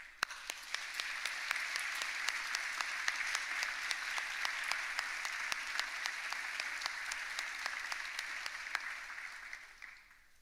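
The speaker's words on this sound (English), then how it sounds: "can we give them a round of applause?" A crowd applauds steadily for about ten seconds at a college presidential inauguration ceremony, a dense wash of clapping that stays loud and even before tapering off at the end.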